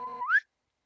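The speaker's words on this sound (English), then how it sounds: "Shrubby likes the slide whistle noise." A short cartoonish slide whistle from the video game Undertale holds a steady tone, then glides quickly upward and cuts off, clear and alone.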